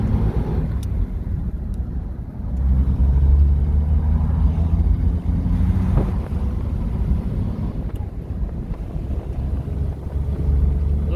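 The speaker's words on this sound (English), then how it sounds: "I'm going to go take it for a ride now and see how she rides." A 1937 Plymouth with new shocks and tires driving along a bumpy road, heard from inside as a loud continuous low engine and road rumble with wind buffeting, no talk.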